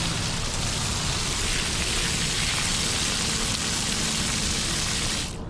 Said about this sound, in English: let me grab the water hose and I'll show you, give you a real live example